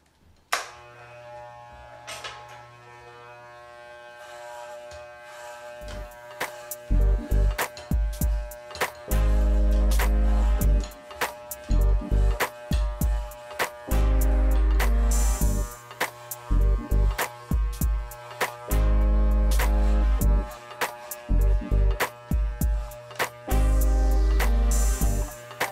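Electric hair clippers fitted with a number 6 guard buzz in repeated bursts as they cut hair, starting and stopping with a strong low hum and a sharp, even drone.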